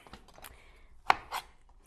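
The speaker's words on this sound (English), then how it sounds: "Cut with the skin side down on the cutting board so you have a little bit more control." A knife cuts through a tomato, skin side down, on a cutting board, giving a few soft, quiet cuts and one sharper thud as the blade meets the board.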